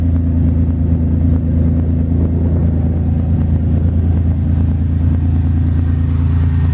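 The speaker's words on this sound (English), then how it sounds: "That's the exhaust sounds like right now." A loud, deep Pontiac Grand Prix GTP exhaust drones steadily nearby as the engine holds a rumbling rev, with no talking.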